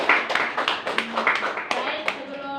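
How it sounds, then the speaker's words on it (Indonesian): A school class claps together at the end of a lesson: uneven, close hand claps with voices mixed in throughout. "Tepuk tangan untuk kalian semua."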